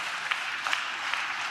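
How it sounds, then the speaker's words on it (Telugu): A church congregation claps in praise, a steady, lively patter of many hands with a few sharper accents standing out. "చప్పట్లు కొడుతూ స్తోత్రాలు చెప్దాం"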